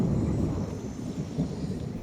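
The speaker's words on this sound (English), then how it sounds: "along with an aggressive lightning bolt sound when it's raining" A loud, aggressive lightning bolt strike during rain in Minecraft with the Dynamic Sounds mod: a dense, low rumbling crash that rolls steadily for about two seconds over a rain-like hiss.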